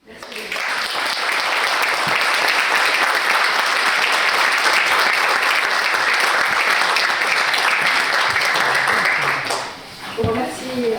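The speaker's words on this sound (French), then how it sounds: "Je pense que vous avez entendu les applaudissements." An audience applauds at the end of a lecture on international law, dense, sustained clapping filling a hall for about nine seconds before fading, after which a voice begins speaking.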